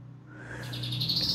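A white-rumped shama, or murai batu, gives one clear rising call. Bright, whistled notes build into a quick warbling phrase, heard close up and alone with no talking.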